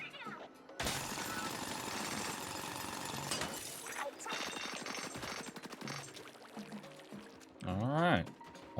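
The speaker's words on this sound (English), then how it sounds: "Drill." A drill weapon in the Splatoon Raiders video game fires a loud, dense rattling burst for about three seconds. Scattered clattering and splashy impacts follow, ending with a short sweeping whine.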